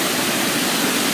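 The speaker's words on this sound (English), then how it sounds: "It's a really pretty waterfall" A waterfall roars as a dense, steady rush of falling water, loud and unbroken throughout.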